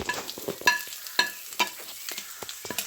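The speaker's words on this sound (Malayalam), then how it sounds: "ഇനി മല്ലിപ്പൊടി എല്ലാം ഫ്രൈ ചെയ്ത് കഴിഞ്ഞിട്ടുണ്ട്" Ground coriander and spices for a prawn coconut fry crackle in a pan, with clustered scraping stirs and sharp sizzling bursts against a quiet background.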